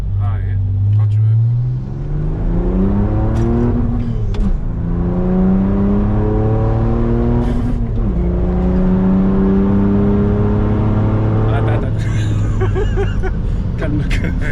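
A stage 3 tuned BMW 330d diesel accelerates hard in second gear from inside the cabin, its engine note climbing through several loud rising pulls, each cut by a brief dip, while occupants talk excitedly over it.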